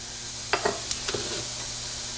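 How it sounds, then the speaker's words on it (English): Fennel and cumin seeds sizzle in hot oil in a pan, with a few quick crackles and pops over a soft, steady frying hiss, close and fairly quiet. "Now I am going to add half a teaspoon of fennel seeds and half a teaspoon of cumin seeds"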